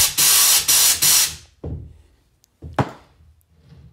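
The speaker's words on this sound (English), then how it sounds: "next we're going to throw a little air down in there" Several sharp bursts of compressed air hiss loudly, close up, blown through a part of a 1999 Harley-Davidson Fat Boy motorcycle, the first three back to back, followed by a couple of knocks and a final short blast.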